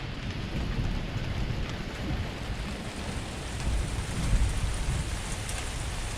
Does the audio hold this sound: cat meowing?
no